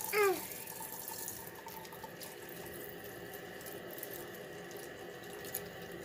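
Water runs from a tap in a steady, fairly quiet stream after a brief squeaky opening of the faucet, close by, with the flow continuing evenly throughout.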